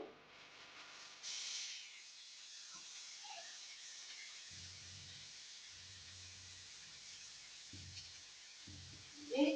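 Sweet potatoes frying in a pan give a soft, steady sizzle and hiss throughout, with faint clinks and a brief louder scrape near the end.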